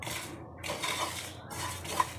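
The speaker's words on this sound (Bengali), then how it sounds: "আমি এখন সব একসঙ্গে ভালো করে মিশিয়ে বেশ একটু সময় নাড়াচাড়া করে নেব।" Cumin seeds dry-roasted in a pan for a cucumber raita, stirred with a scraping, scratchy rustle and light utensil clinks, one sharper knock near the end, steady and fairly quiet throughout.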